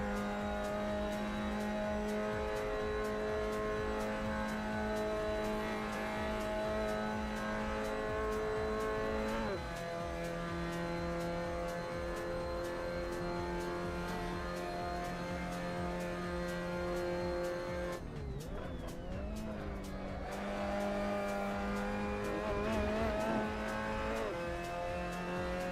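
A race car engine howls at full throttle around Mount Panorama in a racing video game, sustained high revs with sharp gear shifts and brief dips as it brakes and climbs again, loud and continuous.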